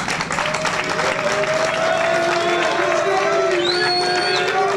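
A press-conference crowd claps and cheers loudly for an arriving guest, with voices and whistling tones mixed in over the sustained applause.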